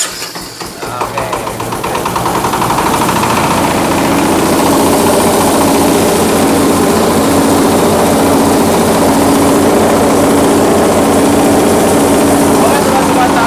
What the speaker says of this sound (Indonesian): untuk uji mesin giling padi Mak Tani yang membuat dua